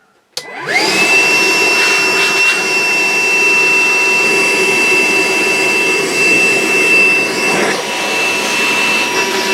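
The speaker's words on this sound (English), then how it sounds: "Milwaukee 2-gallon wet or dry cordless vacuum cleaner" A Milwaukee M18 2-gallon cordless wet/dry vacuum starts with a click and whooshes up to a loud, steady whining roar that holds without a break, close by.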